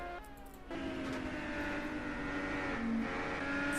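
IndyCar race car in a racing video game, heard from the cockpit during a lap: a high, whining engine note holding steady with small shifts in pitch, fairly quiet and uninterrupted.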